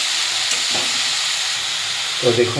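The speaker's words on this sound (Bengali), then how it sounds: "এবার একটু হালকা করে নাড়িয়ে নিতে হবে সুন্দর করে।" Fenugreek greens with smoked mutton frying in a pan, a loud, steady hiss and sizzle with light stirring scrapes throughout; a voice speaks briefly near the end.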